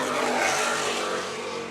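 Twin 1650 engines on a racing powerboat at an offshore world championship race in Key West roar loudly and steadily, the dense engine noise easing slightly toward the end.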